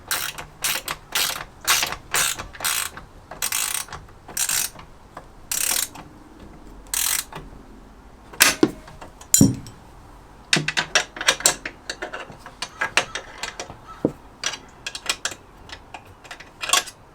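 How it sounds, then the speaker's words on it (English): A ratchet wrench cranking a bolt tight on a swivel seat being installed in a Ram ProMaster van, fast bursts of rapid clicking broken by pauses and a few dull knocks, loud and close. "just finishing up the last bolt now."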